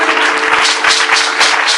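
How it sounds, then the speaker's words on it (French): Congregation applauding and cheering in praise of the Lord at a church service, a dense, steady wash of many hands clapping close by, sustained throughout with crowd noise and a held musical tone underneath. "acclamez le Seigneur encore pour vous."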